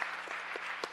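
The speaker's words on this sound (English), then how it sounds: "give themselves a round of applause or snaps" Applause from the audience at a city council planning and land use committee meeting, a brief, steady wash of clapping with a few sharper claps standing out.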